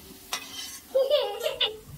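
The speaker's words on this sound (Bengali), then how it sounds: "এদিকে মশলাটা যাতে দলা পাকিয়ে না যায় তার জন্য একটু নাড়িয়ে চাড়িয়ে নিচ্ছি" Spice paste of ground spices, turmeric and a little water gets stirred in a pan while cooking dhokar dalna, giving a few short scraping strokes and a soft sizzle, close and moderately quiet.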